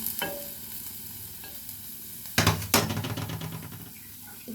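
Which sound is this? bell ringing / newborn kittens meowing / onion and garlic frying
onion and garlic frying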